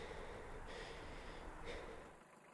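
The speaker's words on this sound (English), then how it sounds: "It was just heavy, wet breathing." Heavy, wet breathing hisses over an open CB radio channel in a truck, slow rasping inhales and exhales in a steady noise wash that fades toward the end, with no voices.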